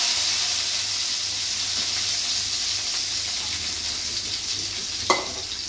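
Jackfruit seeds fry in a pan of hot oil with spices, giving a steady, close sizzle and hiss throughout, with a brief sharp clatter near the end as the pan is stirred; no voices.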